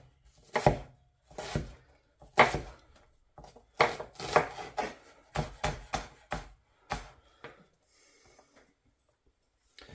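Firm, rhythmic chops of a freshly sharpened knife slicing through pumpkin on a board, a dozen or so close thunks in steady bursts before trailing off into quiet.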